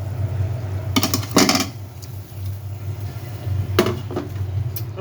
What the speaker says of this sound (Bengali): এখন আমি মাছটা দিয়ে দিই।